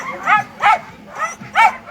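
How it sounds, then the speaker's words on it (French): A team of purebred Nordic sled dogs at a race start in the Giffre mountains gives four loud, close barks in an even rhythm. "vous appréciez bien entendu cet attelage de pur nordique, magnifique chien, bel attelage"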